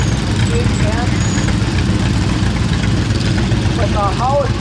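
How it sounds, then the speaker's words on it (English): A 1952 Ford 810 tractor engine idles with a steady low rumble at a parade, loud and close, while a voice talks over it and faint chirping whistles come and go. "This next tractor is Russell Isola on a 1952 Ford 810"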